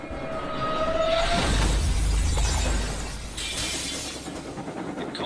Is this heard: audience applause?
no